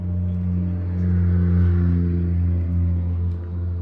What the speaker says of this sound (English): Sorry for the loud cars outside.